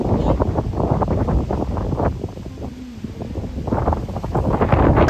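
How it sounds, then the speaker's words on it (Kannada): Strong wind buffets the microphone throughout at Male Mahadeshwara Hills temple, Karnataka, a loud continuous low roar with gusty rises and a brief lull midway. "ಗಾಳಿ ಬರ್ತಾ ಸಿಕ್ಕಾಪಟ್ಟೆ ಇವತ್ತು."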